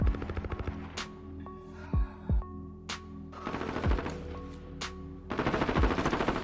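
Automatic weapon fire in Call of Duty Warzone on PS4 Pro: rapid machine-gun bursts and single heavy shots crack at close range, with pauses between volleys and a steady game soundscape underneath.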